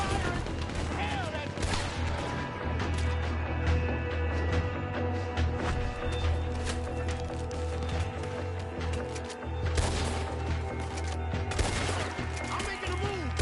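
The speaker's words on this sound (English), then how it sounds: "He's going for the Gatling! Look out! He's firing!" Gatling gun fire from a veranda shootout in Red Dead Redemption 2, dense rapid bursts of gunfire mixed with other shots and commotion, loud and sustained with shouting voices over it.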